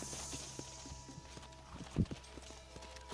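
Horse hooves clip-clop at a slow walking pace in the Western video game Red Dead Redemption, with soft irregular steps and one louder thud midway, all fairly faint.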